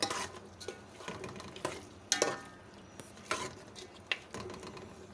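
Tomatoes with turmeric and salt being stirred and fried in a pan for mutton karahi, with a steady sizzle and recurring scrapes of a spoon against the pan, close and moderately loud.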